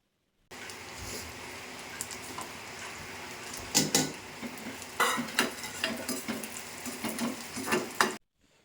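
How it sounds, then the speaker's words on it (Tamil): Parboiled rice is spooned onto chicken dum biryani masala in a pot, giving a run of close scraping and clinking spoon-on-metal sounds and soft sizzling, irregular and fairly loud, with no voices. "பிரியாணி மசாலாவில் நான் அரிசியை சேர்த்துக்க போகிறேன்."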